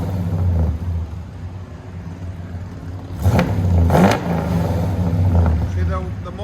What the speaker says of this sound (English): See, the more they warm up the mufflers, the deeper the sound becomes.